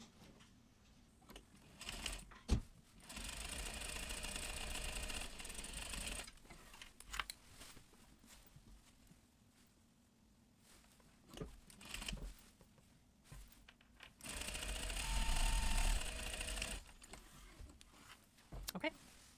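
An overlocker serges the shoulder seams of a garment in two bursts of whirring stitching, quiet and close, separated by rustling fabric and handling noises.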